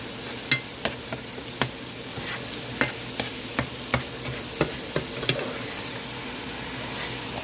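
Ground meat fries in a pan while a utensil stirs seasoning into it, giving regular scraping taps about twice a second over a steady low sizzle, close and clear with no voices.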